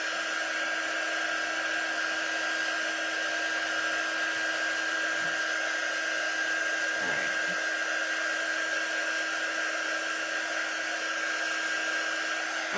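A hair dryer or heat tool drying paint on an Easter bunny craft piece, blowing with a loud, steady high-pitched whine and whoosh throughout, close to the microphone and without talk.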